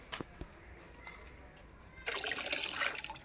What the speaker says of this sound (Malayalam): ഇതിലത്തെ വെള്ളം ഒഴിവാക്ക് ചളി വെള്ളം ഒഴിവാക്ക്